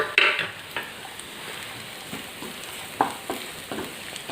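Ginger, garlic and curry leaves sauté in a hot pan for a Kerala-style beef roast, giving a steady soft sizzle with a few sharper scrapes and stirring clinks, close and alone without talk.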